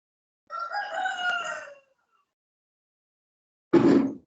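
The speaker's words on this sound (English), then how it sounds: "whose chicken is that?" A rooster crows clearly once, close and loud, and after a pause a short, coarse cluck-like call follows, with nothing else heard.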